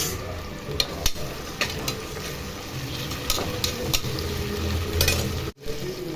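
Ginger garlic paste fries in a pan of hot oil for egg rice, a steady close sizzle with scattered scrapes and clinks of a spoon stirring, a brief dropout near the end.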